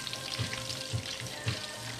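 Artichokes and seafood frying in hot oil give a steady, close sizzle with soft crackle throughout, with low bubbling pulses about every half second, no talk.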